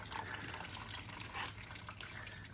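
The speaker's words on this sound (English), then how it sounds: "Just turn it counterclockwise, coolant will start coming out" Coolant pouring out of a first-generation Chevrolet S10 radiator into a large drain pan, a steady splashing trickle of liquid running without a break, close by and fairly faint.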